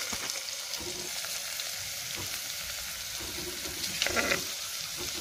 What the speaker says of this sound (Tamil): கேரட் போட்டு நல்லா ஃப்ரை பண்ணிக்கலாம்.